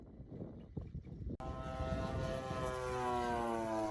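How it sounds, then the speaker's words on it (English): A prototype Seagull Models Corsair RC model airplane drones in flight, its engine a steady, rising tonal whine that starts abruptly after a brief quiet patch and carries on alone. "the new prototype Corsair was brought out and made flight ready"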